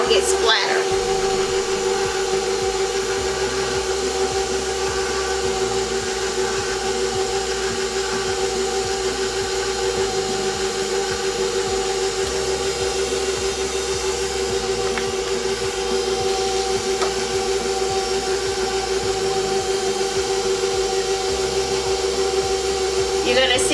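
Electric mixer running on its low stir setting while two pounds of powdered sugar are worked into icing, a steady continuous motor whir with faint speech-like murmurs underneath throughout.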